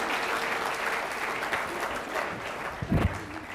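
A church congregation claps and cheers in praise, a dense sustained burst of applause filling the room, with a brief louder thump near the end.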